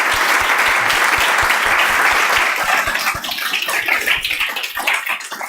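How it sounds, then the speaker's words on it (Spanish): A lecture audience gives a hearty round of applause for the professor, dense clapping up close that loosens into scattered individual claps in the final seconds. "Un fuerte aplauso, profesor."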